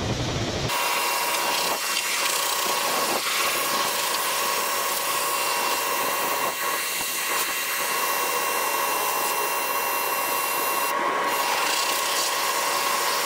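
A Ryobi RY141900 electric pressure washer sprays a greasy, dirty AC condenser coil, producing a steady, loud hissing rush of water that runs without a break, close up and with no talking.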